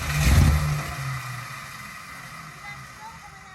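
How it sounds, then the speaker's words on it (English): A 1967 Plymouth GTX engine pops back through its carburetor, giving one loud burst near the start and then a rough, fading rumble as it settles, close by with no talk. "Just popped through the carburetor"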